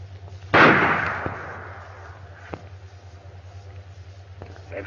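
A single loud gunshot cracks out in a 1937 western film shootout, its echo decaying over a second, followed by a few faint, sparse pops and clicks in the quiet that follows.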